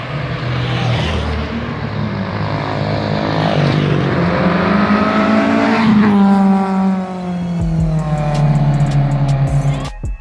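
Close, loud VW Gol engine revving up and down in a sound test, the pitch rising and falling in long sweeps before dropping to a lower rumble, with no talk over it.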